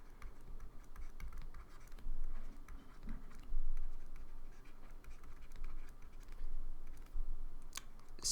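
A pen scratches across paper while a physics exam answer is written out, with quiet irregular strokes and small taps in a calm room.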